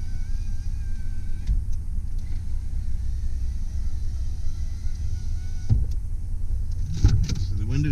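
Power windows on a 2002 Dodge Ram 1500 high-top conversion van whir up and down over the idling engine's low rumble, with thumps as the glass stops and a brief whine near the end.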